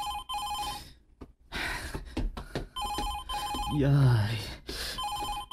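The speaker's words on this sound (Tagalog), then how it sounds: "Nibagting man ang telepono." A telephone bell rings in bursts during a domestic drama scene, repeated trilling rings separated by short gaps, with voices and a cheer breaking in between the rings.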